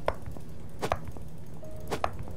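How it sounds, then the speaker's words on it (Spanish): A pick strikes stone in the survival game The Wild Eight, with a handful of sharp, evenly spaced clacks ringing out over a quiet ambient background. "Seguimos picando piedra."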